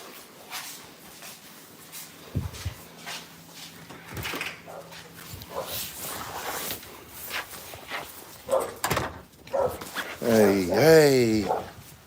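A puppy gives a few short yips and whimpers near the end, heard amid footsteps on stairs and someone talking to it outdoors.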